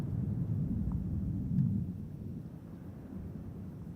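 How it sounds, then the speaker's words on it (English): Deep distant rumble of a sonic boom as a SpaceX Falcon 9 first stage returns to Landing Zone 1 at Cape Canaveral Air Force Station, a low rolling thud swelling briefly then fading into a windy roar. "a sonic boom felt throughout the Kennedy Space Center and Cape Canaveral Air Force Station area"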